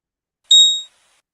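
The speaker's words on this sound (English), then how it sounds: "I guess we put that alarm on Litecoin a while ago." Trading platform price alert for Litecoin: a single short electronic beep, bright and clean, ringing for under half a second against silence.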